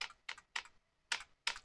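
A password is typed on a computer keyboard in five crisp, separate keystroke clicks at an uneven pace, close and quiet with no talking.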